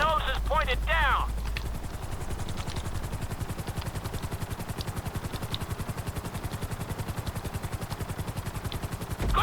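A helicopter in GTA 5 at full speed, its rotor chopping in a fast, steady rhythm with a heavy engine drone, loud and continuous after a brief burst of other game sounds.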